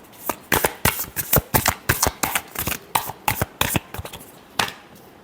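Tarot cards are shuffled by hand in quick riffling bursts, about fifteen sharp papery slaps in an uneven rhythm, close and clear with no voices.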